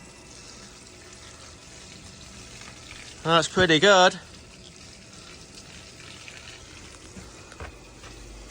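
A 12V Milwaukee water pump converted to run on a Makita battery starts up and pushes water in a short, loud whirring, splashing burst of about a second, with quieter running and a brief spoken comment around it.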